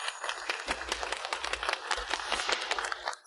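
An audience at a formal event claps in a dense burst of applause lasting a few seconds, moderately loud and then tapering at the end.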